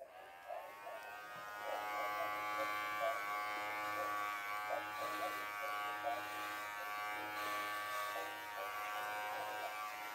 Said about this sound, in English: Hey, Bud. Shaving time.